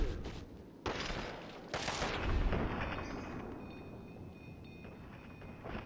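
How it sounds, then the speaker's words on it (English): Gunfire in the video game Fallout 3: several loud, sharp bursts of shots with rumbling blasts and crackling tails, close and harsh, overlapping and fading into a lingering noisy wash. "Gotta reduce the gunfire."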